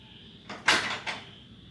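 A wardrobe door in a riverside homestay room on Ko Kret, Nonthaburi, opens with a short scraping clatter and a second softer knock, close by over a steady background hiss.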